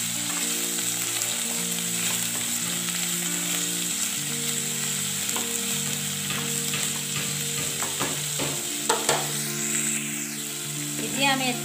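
Potatoes and boiled cauliflower stalks fry in a wok with a continuous close sizzle and intermittent stirring scrapes, steady throughout.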